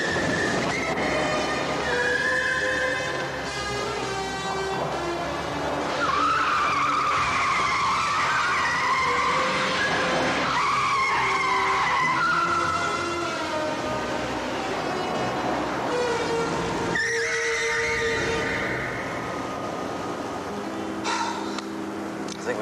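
A remote-controlled car skids with squealing tyres in a James Bond film scene, the screech running through much of the stretch under loud orchestral music.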